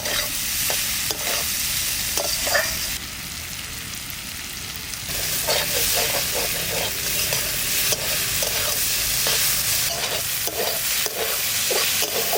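Bitter gourd and onion fry in a pan with a loud, close sizzle, punctuated by repeated scraping and clacking of a spatula as the pieces are stirred, with one quieter stretch before the vigorous stirring resumes.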